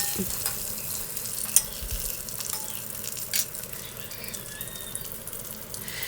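Curry leaves and green chillies sizzle in hot coconut oil for an egg kurma, a steady crackling fry with occasional stirring clinks and pops, heard alone without talk.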